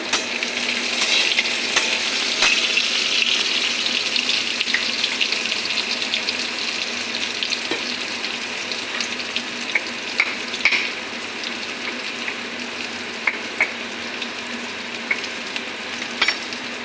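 Onions and spice paste with crushed garlic fry in a pan, a loud, steady close-up sizzle with occasional crackles and light stirring scrapes throughout.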